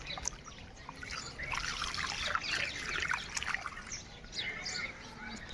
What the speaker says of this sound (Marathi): हे बघा असं पाणी, ही आळी भरलेली आहे अशी.